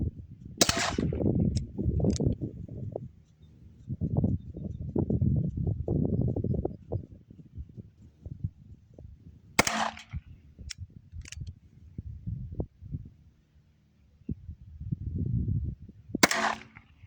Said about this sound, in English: I'm gonna shoot single action.